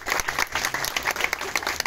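Wedding guests clapping for the witnesses during a civil marriage ceremony, brisk, dense applause from a room full of people, close and steady across the moment.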